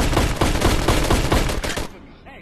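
Rapid burst of pistol gunfire in the VR Chat game The Hunt, shots fired in fast succession for about two seconds, loud and close, then cutting off to near silence.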